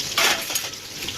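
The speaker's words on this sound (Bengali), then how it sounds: "অর্ধেকের বেশি ভাজা হয়ে গেছে, এখন খানিকটা ভাজা হতে বাকি আছে।" Six eggs frying on a gas flame in a home kitchen, a steady close sizzle with a brighter crackling burst early on and a few small clinks, no voices.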